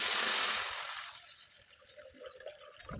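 Water splashes and trickles into a pan of vegetables for soup, loud at first then tapering into softer drips and small splashes.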